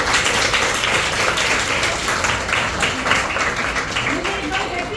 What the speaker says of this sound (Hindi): एक बार ग्रुप लीडर्स के लिए तालियां